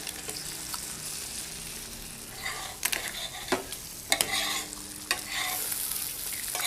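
Food, with chopped mint and green coriander nearby, sizzles steadily in a frying pan while a spoon stirs and scrapes, giving a few sharp knocks against the pan over the constant frying hiss.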